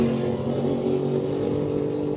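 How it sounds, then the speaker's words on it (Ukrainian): Motorcycles roar past beside an electric car at a charging station, a loud, steady engine drone with no break and no voices. "чортові мотоциклюги."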